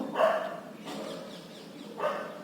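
A dog barks three times, the bursts close and fairly loud, with short gaps of quiet between them.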